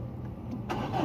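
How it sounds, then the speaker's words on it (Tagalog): A Mitsubishi Adventure engine cranks and catches near the end, its steady low rumble rising slightly, close and without talk. "ibig sabihin mapapandar na natin yung sasakyan nya."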